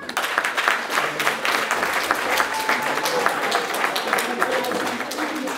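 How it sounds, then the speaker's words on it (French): Guests at a 50th birthday party applaud, a moderately loud run of distinct, irregular hand claps that carries on steadily for several seconds with some voices mixed in. "vous pouvez l'applaudir."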